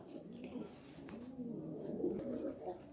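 A foreign-bred two-year-old male pigeon coos in low, rolling phrases, close and steady over a faint indoor background.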